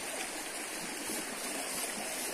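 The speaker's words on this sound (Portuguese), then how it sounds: "Água corrente limpinha" Clean running stream water flows over rocks beside a dirt road, a loud, close, continuous rushing babble with no pauses.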